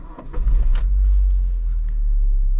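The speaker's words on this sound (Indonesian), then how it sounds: "Barusan terlalu ke atas, jadi kita nyalakan lagi mesinnya." A Honda Mobilio's engine fires up again after stalling, a brief cranking burst giving way to a steady, loud low idle rumble close by, with no talking.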